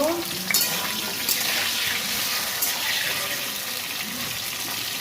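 Eggplant slices frying in hot mustard oil with a little salt, a steady close sizzle with faint stirring and scraping, no talking.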